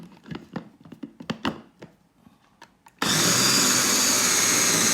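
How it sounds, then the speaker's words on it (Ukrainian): Light kitchen clattering and knocks, then a blender suddenly roars to life blending cooked pumpkin cream soup and runs loud and steady to the end. "Тепер ми її так само блендеруємо"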